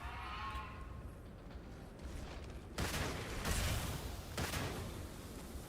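A gun firing in Starfield: a few sharp, loud reports spaced about a second apart over a low background rumble, following a quieter stretch.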